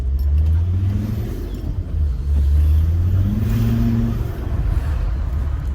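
A Volvo D5 2.4-litre five-cylinder turbo diesel revving as it accelerates, a loud close engine drone rising and falling in pitch through two pulls with a deep rumble underneath.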